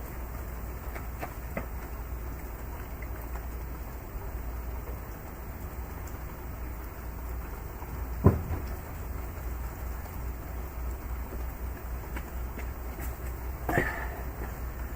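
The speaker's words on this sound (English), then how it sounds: "So I get to run through the rain." Steady rain falls outdoors during a rainy-day outdoor chicken grilling session, a constant broadband patter throughout, with a couple of brief louder knocks near the middle and the end.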